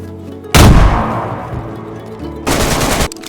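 Bursts of loud gunfire in the video game DayZ, a long rattling volley followed by a second shorter burst after a brief lull.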